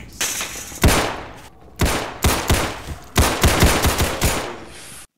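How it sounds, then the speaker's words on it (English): Gunshots from a gun in a Garry's Mod Half-Life 2 roleplay game: loud, close shots fired in short bursts and single cracks, with brief pauses between the volleys. "How many bullets does it take to take someone out? I'll test it out on this guy, okay?"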